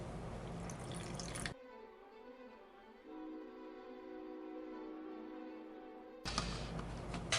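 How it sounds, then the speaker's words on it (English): Water poured into a mix of craft paint and interference green powder for a custom mixed-media colour, a soft, steady trickle running for several seconds between louder handling noises, heard alone without talk. "And I'm going to add a little bit of water."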